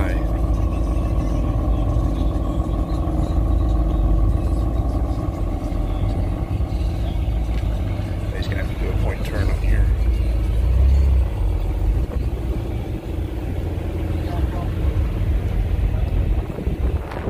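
A 2013 BMW M5 rolls by at a car meet, its low engine rumble steady and fairly close under wind noise and crowd chatter, with a brief swell as it passes.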